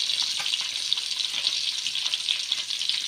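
Fish frying in a pan gives a steady, close, bright sizzle with faint crackles, heard alone and without voices.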